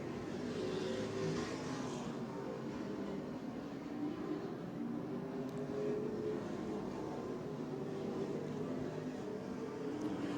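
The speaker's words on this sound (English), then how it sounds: "Bucky Demers keeps the engine fired up" Stock race car engine running steadily at Twin State Speedway in Claremont, New Hampshire, a constant close engine drone held for the whole stretch with no talk over it.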